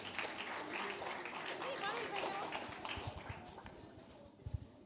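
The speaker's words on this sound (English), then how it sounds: "Round of applause for Emmanuel." An audience at a high-school seminar claps in a steady patter of many hands, fairly distant and continuous, with voices mixed in and a few louder thumps near the end.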